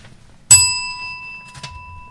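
A radio show host strikes a hand bell: one sharp, bright ding that rings out and decays slowly, then a softer second tap about a second later.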